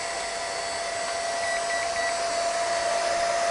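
An electric motor in a mechanical amplification test rig runs continuously, a loud steady whirring hum with a fixed tonal whine and no pauses or changes in speed.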